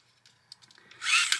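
A Tamiya 74041 handy drill boring tiny holes, heard as a short buildup of light clicks and handling noise that swells into a loud, steady high-pitched whir for about half a second at the end.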